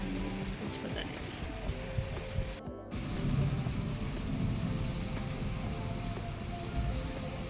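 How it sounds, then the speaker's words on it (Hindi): Heavy rain pours outside a home gallery in a hard, steady wash that fills the whole stretch, with a low rumble underneath and a person speaking over it. "बहुत तेज़ बारिश है बाहर"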